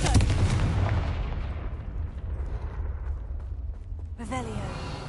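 Confringo blasting spell explosion in Hogwarts Legacy: a loud, booming blast at the start whose rumbling tail decays over several seconds, followed by a brief voice near the end.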